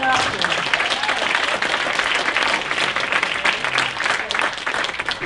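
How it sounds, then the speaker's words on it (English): Crowd applause at a comedy club show, steady broadband clapping sustained for several seconds with scattered voices and whoops under it. "So give yourselves a round of applause just for showing up here."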